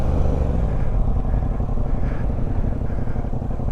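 A Yamaha MT-07 motorcycle fitted with cheap aftermarket driving lights, heard while riding as a steady low engine drone with constant road and wind rumble throughout.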